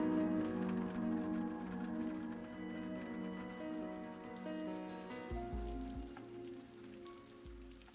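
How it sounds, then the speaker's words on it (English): Steady rain pattering on a surface, a dense, continuous wash that holds from start to finish, with a few soft low thumps toward the end. "And then there was rain!"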